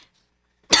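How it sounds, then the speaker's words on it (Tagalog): A single short, sharp cough bursts out close by after near silence. "sa malang ubo nimo"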